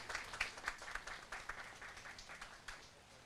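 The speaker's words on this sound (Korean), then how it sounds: "소년소녀 합창단 하나인 양에게 큰 박수 부탁드립니다" Audience applause for a children's choir at a March 1st Independence Movement Day ceremony marking the 102nd anniversary in Songpa, heard as soft, steady clapping from a crowd that stays fairly quiet and even throughout, with no one speaking.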